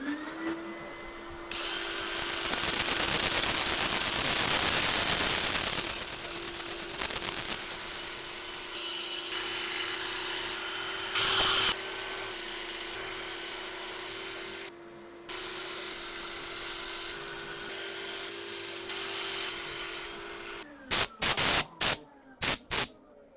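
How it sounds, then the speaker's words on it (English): Sanding a woodturning piece spinning on a lathe, a steady, loud abrasive hiss over the motor's continuous hum, with the pitch and pressure shifting, then a few sharp knocks near the end. "Right, I'm going to set up for sanding."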